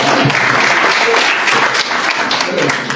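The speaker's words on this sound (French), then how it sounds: "On applaudit Jawad quand même." An audience claps steadily throughout, a dense wash of applause filling the whole stretch with no voices standing out.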